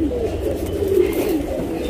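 A top-class male Cheeni breed pigeon coos steadily up close, a low warbling call repeating through the whole stretch over a faint background hum.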